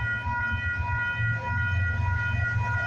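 A CP freight train rolls past at Bartlett Avenue in Toronto, a steady loud low rumble with sustained tonal hum throughout, no voices.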